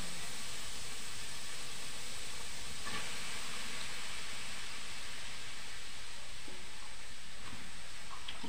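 Food steams during cooking for a barangay fiesta, giving a steady, soft broadband hiss that runs unbroken throughout, with a few faint clicks and knocks.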